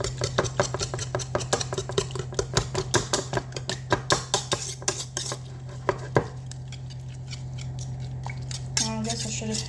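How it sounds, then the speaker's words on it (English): A small whisk clatters rapidly against a bowl, stirring a seasoned mixture with cayenne pepper in a home kitchen, quick metallic ticks in a steady rhythm over a low appliance hum, slowing and stopping near the end. "Got my little whisk."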